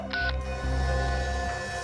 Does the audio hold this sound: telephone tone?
yes